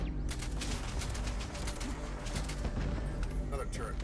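Rapid bursts of gunfire from turrets and weapons in the video game Starfield, a steady rattling barrage over a dense background of game sound, with a voice talking now and then.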